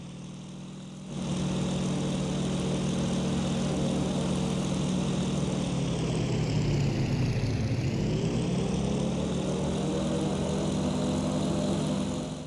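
Fighter plane engines roar in an IL-2 1946 video game dogfight over Peleliu, with a Corsair involved. A loud, steady propeller drone starts abruptly after a second and holds throughout, dipping and rising in pitch midway as the aircraft maneuvers, with no talking.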